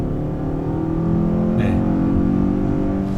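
Kia K8 facelift with a 2.5 naturally aspirated gasoline four-cylinder straining while climbing the Jungmisan mountain road, heard from inside the cabin as a steady, droning engine hum that rises slightly under load, with one brief spoken word.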